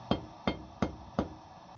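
A hammer strikes hot wrought iron on a soft-faced, inexpensive Harbor Freight anvil, landing four evenly spaced blows with a dull, ringing clank, close and loud, each decaying quickly before the next.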